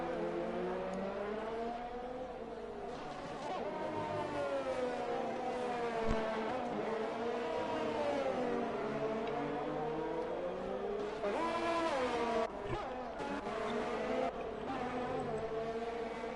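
McLaren and Ferrari race cars in a racing game, engines wailing continuously with rising and falling pitch as they accelerate and shift, loud and steady throughout, with no talk over them.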